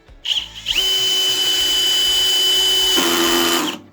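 Hilti SF 4-22 cordless drill driver on the Nuron battery platform driving a screw: a loud, close motor whine that holds steady for about three seconds, shifts pitch briefly near the end, then spins down.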